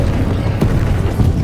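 Confringo explosive spell cast in the Hogwarts Legacy video game, a dense, loud booming blast with a sharp burst near the middle over continuous rumbling low-end game noise, no talk.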